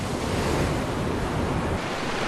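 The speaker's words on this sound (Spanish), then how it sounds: "Veía las olas que rompían y chocaban contra las piedras por allí." Ocean waves crash and break against rocks, with wind roaring over the microphone in a steady loud wash; no voices.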